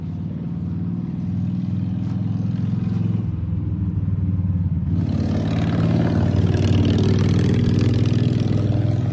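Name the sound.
loud motorcycle passing on road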